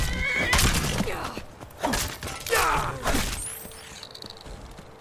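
Horse neighing and whinnying in Skyrim, with a few loud whinnies rising over clip-clop hoofbeats, creaks and thuds, and a faint high game chime near the end.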